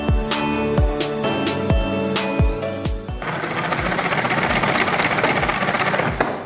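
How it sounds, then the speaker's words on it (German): A salad spinner whirs as washed wild greens are spin-dried, opening with rhythmic ratcheting pumps that build speed before settling into a continuous loud whirring spin. "einfach nochmal kurz trocken schleudern"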